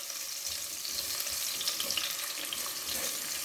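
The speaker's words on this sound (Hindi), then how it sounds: "अभी मैं प्याज को फ्राई कर रही हूँ।" Chopped onions frying in a pan for gobi sabzi, a steady close hiss of sizzling oil with faint crackles, no voices.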